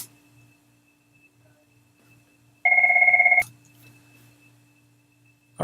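Telephone ringing during a screen recording, one short electronic ring burst of under a second, loud and clear against an otherwise near-silent background with a faint steady hum.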